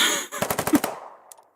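Burst of machine-gun fire from friendly troops in the war game Foxhole: a rapid string of about eight sharp shots over roughly half a second, fairly loud and close, trailing into a short decay and a faint later click.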